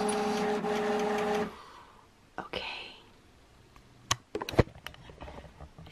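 A printer runs loud and close with a whirring mechanical hum for about a second and a half, then stops, followed by soft handling clicks and faint whispering.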